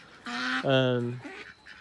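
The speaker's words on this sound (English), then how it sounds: "but those are the ducks" Ducks at an animal sanctuary giving a loud, close honking quack in two drawn-out bursts, followed by a fainter short call.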